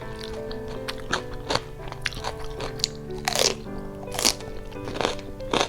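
Close, loud crunching and biting from someone eating pickled salmon in fish sauce, with repeated crisp bites and chewing in an irregular rhythm and no talk.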